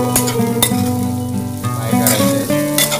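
Corn kernels fry in a pan in a steady, close sizzle broken by a few sharp clatters and stirring knocks, with no voices.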